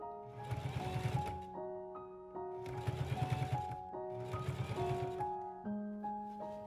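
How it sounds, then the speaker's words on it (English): Sewing machine joining a neck piece to the neckline of a homemade dress form, three short rattling bursts of stitching separated by pauses, quiet and close beneath soft background music. "Pin the neck piece to the neckline and sew them together."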